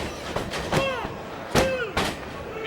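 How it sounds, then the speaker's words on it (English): In a Ring of Honor wrestling match between Tyler Black and Jimmy Jacobs, a forearm is driven down onto an opponent. Two sharp, loud thuds land about a second apart over crowd noise, with a commentator talking throughout. "Drives down with the forearm"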